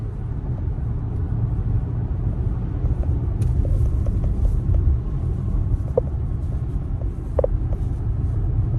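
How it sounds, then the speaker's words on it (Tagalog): Road traffic in Calgary rolls past as a continuous low rumble of many cars, fairly distant and steady, with a few faint clicks and knocks over the drone. "Ganito sa Calgary, ganito karami yung sasakyan"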